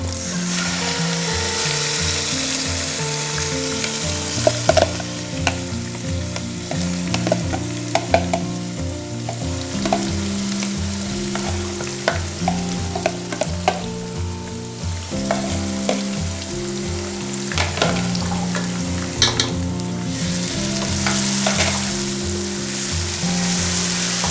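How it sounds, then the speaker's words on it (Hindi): Marinated chicken frying with golden onions in a pot for biryani, a continuous loud sizzle broken by frequent stirring scrapes and clanks of the spoon, with no voices. "जो हमने चिकन को मैरिनेट करके रखा था वो इसमें ऐड कर देंगे।"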